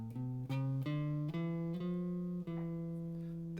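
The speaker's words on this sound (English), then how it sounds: "That's the sound of pure minor." A pure minor (Aeolian) mode played as a run of clear sustained notes that step upward one after another, each note ringing evenly and moderately soft.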